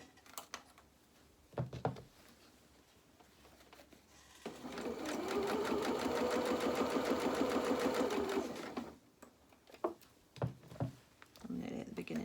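A sewing machine runs steadily for a few seconds, stitching a seam on pyjama bottoms, with quiet handling noises and brief clatter before and after.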